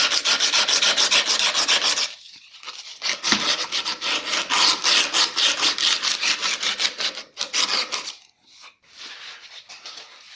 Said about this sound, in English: I'm just going to take some coarse sandpaper and rough it up a bit.